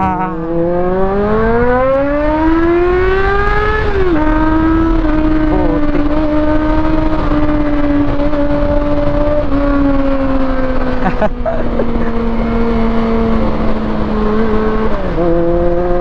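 A Honda CB400SF motorcycle, newly fitted with a replacement chain and sprockets, is ridden in third gear. Its engine drones loudly and steadily close by, rising in pitch as it accelerates, then settling and dipping slightly with throttle changes.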